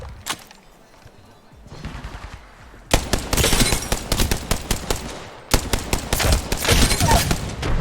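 Rapid automatic gunfire from the battle royale shooter Apex Legends, sparse shots at first, then two long loud sustained bursts of fast repeated shots close up.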